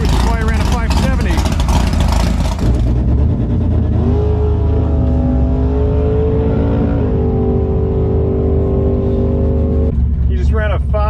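Loud, close roar of a drag racing car accelerating hard down the strip, engine pitch climbing and shifting over several seconds, with a voice talking over the noise.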